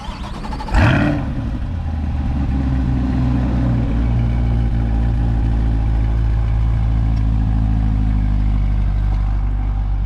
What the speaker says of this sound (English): this is a cold startup on a 2021 C8 Corvette